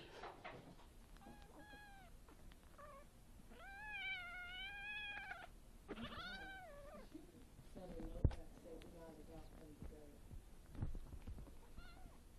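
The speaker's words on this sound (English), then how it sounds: "This is some of the most creative kitten fighting that I've ever seen from our foster kittens." Foster kittens playing and fighting, with several drawn-out meows and high cries, scuffling thumps and a sharp knock, fairly faint and close.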